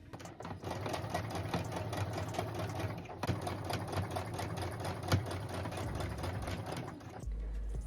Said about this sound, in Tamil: இதுக்கு மேலேயே வந்து ஸ்டிச் பண்ண போகிறேன்